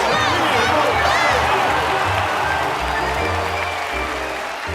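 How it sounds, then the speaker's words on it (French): An audience at a dog show claps and cheers in a dense, steady wash of applause that slowly fades, with a voice and music running underneath. "Applaudissez bien fort l'incomparable Ravageur"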